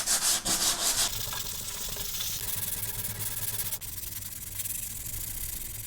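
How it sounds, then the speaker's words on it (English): An 80 grit sanding sponge rasps by hand over wood filler on a door jamb, with quick short strokes at first, then a steadier, continuous scratchy rubbing close by. "This sanding sponge makes it really easy to cut in this edge, make it nice and sharp."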